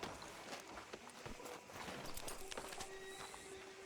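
A horse in the Red Dead Redemption 2 video game, its hooves clip-clopping steadily through a town street while it lets out a neigh, set against a constant bed of ambient game sound.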